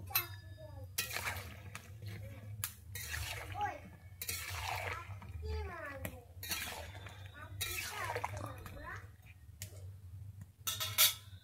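Pieces of giant taro root dropped into water in a cooking pot, a scatter of soft splashes and clinks against the pot, quiet and close.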